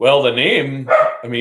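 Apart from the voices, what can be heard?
dog barking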